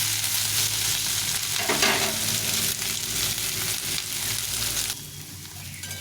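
Chopped cabbage frying for fried rice made from leftover rice, a steady loud sizzle with stirring scrapes that continues throughout and drops slightly near the end.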